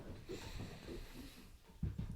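A dog comes downstairs indoors, panting in soft, quick breaths, with a few heavier thumps near the end, close by and fairly quiet.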